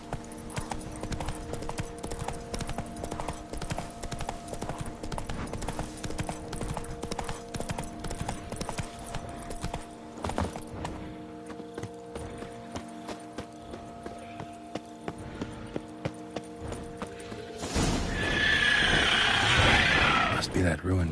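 Horse Roach's hooves clip-clop in a steady, close rhythm through The Witcher 3, with musical tones underneath and a brighter burst of noise near the end.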